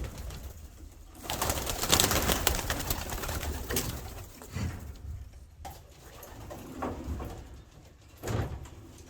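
Pigeons coo in a loft, soft repeated throaty calls up close, mixed with wing flutters and a sliding door or latch noise, with no talk.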